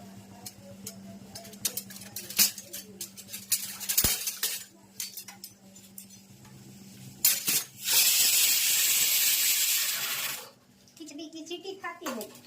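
A tempering for kadhi sizzles in a hot pan as a loud hissing burst of several seconds, set among clinking utensils and dishes while people talk nearby.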